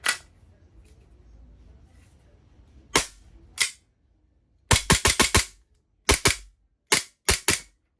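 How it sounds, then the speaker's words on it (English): Strike Industries EMG SMC P320 gas airsoft pistol fired alone in a quiet room: a couple of single sharp cracks, then quick bursts of about five and then five more snappy shots, loud and close with brief pauses between. "Let me just do a quick demo of the gun."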